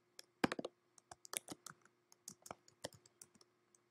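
Keys clacking on a computer keyboard while ad-lib lyrics are typed into a studio session, an irregular run of about twenty sharp, close clicks with a brief quick flurry near the start, heard alone with no talk.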